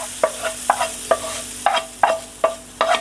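A spoon stirs in a pan with regular scraping strokes over a soft background hiss of spices sizzling in hot oil for tempering.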